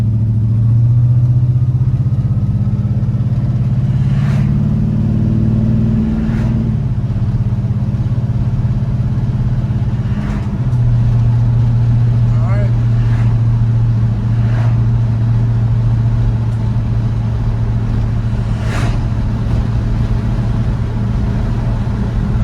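A 55 shop truck on a test drive, its engine a steady, loud low drone with a few gear-change shifts in pitch and some passing clicks and rattles, with no talking.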